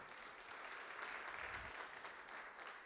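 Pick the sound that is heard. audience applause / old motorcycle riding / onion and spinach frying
audience applause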